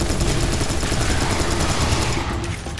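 Rapid automatic gunfire in the video game Serious Sam 3, shooting down incoming rockets, a dense, continuous loud burst that barely lets up, with no voices.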